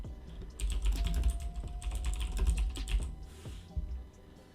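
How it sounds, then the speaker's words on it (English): Rapid, clicky computer keyboard typing, close and fairly quiet, with irregular bursts of keystrokes and short pauses, heard alone without talk. "I apologize in advance for my keyboard, it's very clicky."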